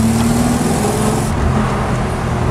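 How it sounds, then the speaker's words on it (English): A 1964 Rambler American 440 hardtop with a small inline-six engine drones steadily while driving in second gear, a close, continuous hum with a faint tonal whine and no voices. "Got a nice sound to it with that little inline six."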